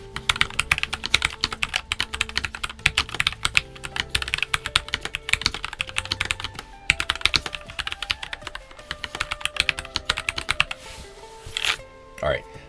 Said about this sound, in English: this is a nice typing experience for what I have experienced from low profiles